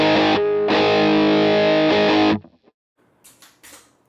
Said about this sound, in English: Here's with first and second stage turned on.